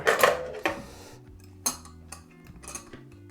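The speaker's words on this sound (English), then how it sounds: "just going to want to whack your lid onto your corny keg" Metal lid being fitted onto a corny keg: a few sharp metallic clanks and clinks, close and loud, with short ringing decays between hits and quiet gaps.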